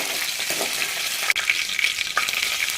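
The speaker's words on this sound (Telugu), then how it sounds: "ఆయిల్, కరేపా, ఆవాలు వేసి కొంచెం వేగనివ్వాలి" Oil with curry leaves and mustard seeds frying in a pan for an okra fry, a steady close hiss broken by a few sharp pops and crackles.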